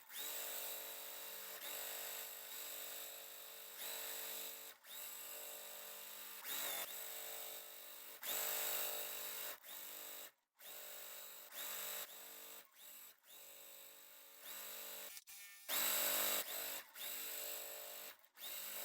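A sewing machine stitching quilt pieces together, running in a steady whirring motor hum for several seconds at a time, with brief pauses and changes in speed between runs.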